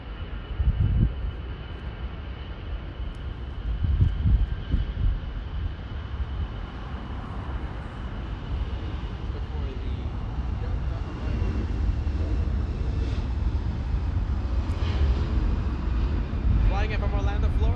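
Broad steady roar of an Airbus A321 airliner on a flight from Orlando, Florida, a continuous loud engine and airflow drone that swells slightly over time, with muffled cabin voices underneath.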